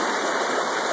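Water swirling in a gold pan during panning, a steady close rushing wash with no pauses.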